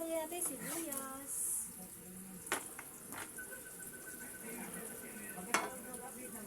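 Onions sizzle and fry in a pan while cabbage with carrots and butter is being made, a steady soft crackle under nearby talk, with a few sharp clinks of utensils.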